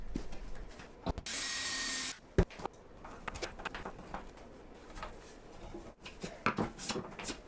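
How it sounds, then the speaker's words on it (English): Power drill driving screws into wooden shelf cleats inside an egg incubator build, one steady whirring run of about a second followed by scattered knocks and handling clatter, close and moderately loud. "I'll install some cleats to support the shelves, and I'll just use screws"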